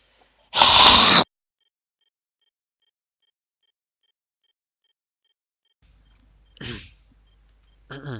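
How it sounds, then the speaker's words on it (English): One loud, close throat clearing bursts out abruptly, followed by a long silence and then a couple of faint, brief throat sounds near the end. "I had to clear my throat"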